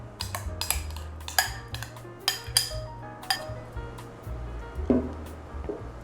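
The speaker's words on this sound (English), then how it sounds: "just mix that all together until it comes together into a ball of dough" Greek yogurt and self-rising flour being stirred into bagel dough in a bowl, the utensil clinking and tapping against the sides in a quick, irregular series of close knocks.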